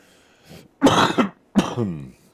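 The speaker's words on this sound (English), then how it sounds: "I'm still kind of coughing and sneezing." A person with a cold who smokes small cigars coughs a few times nearby, a short faint cough followed by two louder, harsher bursts with brief pauses between them.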